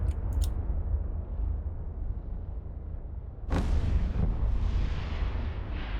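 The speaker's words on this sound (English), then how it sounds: "I do love the pretty green explosions." Ships blowing up in EVE Online: a sudden loud blast strikes midway through a low, rumbling space ambience, with a second, smaller burst soon after, and no voices.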